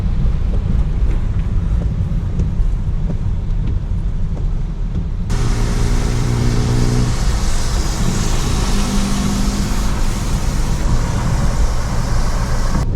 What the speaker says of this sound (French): Voilà un exemple pour les scooters.